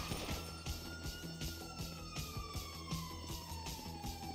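Wailing siren of an ambulance in the GTA V video game, a steady sweeping tone sounding over game music, gunfire-like thuds and engine noise throughout.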